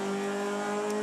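A Toyota 86 race car at Phillip Island, heard onboard heading toward turn 1, holds a loud, steady engine tone at high revs, with no talk over it.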